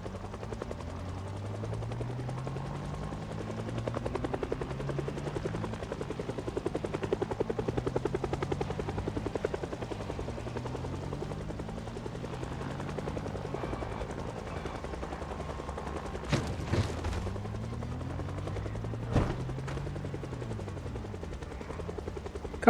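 Helicopter in the zombie survival game Project Zomboid flying overhead, a steady rhythmic rotor thump that swells and fades over the whole stretch, with a couple of sharp gunshot-like cracks near the end and no talking.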